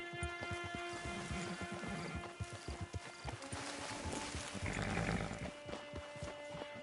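Horse hooves clip-clopping at a steady trotting rhythm in Red Dead Redemption 2, close and distinct, with a brief whinny and quiet game ambience around them.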